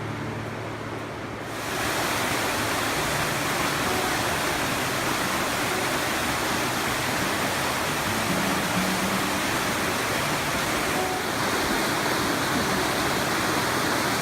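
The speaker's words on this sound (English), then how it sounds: "Dan represents one of the three tributaries of the Jordan River. This is the largest of the three, and it flows with water all year around." Steady rushing water of the Dan River spring, the largest Jordan tributary, flowing year-round; a dense, continuous broadband roar that swells in after a quieter first second and holds loud and unbroken, with no voices.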